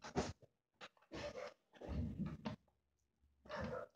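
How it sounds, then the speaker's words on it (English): Dogs pant and huff in short, irregular bursts separated by silent gaps, close by and fairly quiet, with a low whimpering tone in places. "Freaking dogs."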